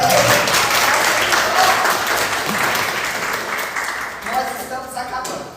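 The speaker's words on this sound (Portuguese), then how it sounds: "Aplausos para eles." A church couples' gathering applauds a couple, sustained crowd clapping with some voices and cheers mixed in, strong at first and gradually thinning toward the end.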